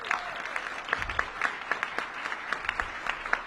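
Applause at a mayoral announcement on tutoring investments, a steady patter of many hands clapping at moderate distance, fairly quiet and sustained for a few seconds.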